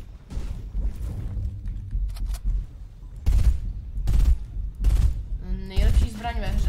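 Rapid bursts of video game gunfire crack out in several volleys, loud and close, with mechanical clatter between them; a voice talks over parts of the sequence.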